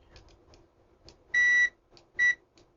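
A Zotek ZOYI ZT-702S oscilloscope multimeter emits two loud, steady continuity beeps, a longer tone and then a shorter one, against light clicking of the probes.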